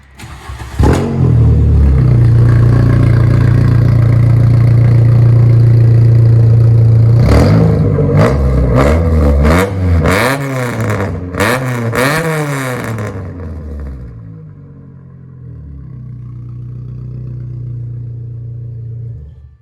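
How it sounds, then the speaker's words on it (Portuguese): A VW Golf Mk3 engine cranks and catches, settles into a loud steady idle, then is blipped through several sharp revs that rise and fall before dropping back to a quieter idle, heard up close with no voices. "Dá uma ligadinha nele, pá. Que o ronco é diferente, né, desse carro. Um pouquinho barulhento."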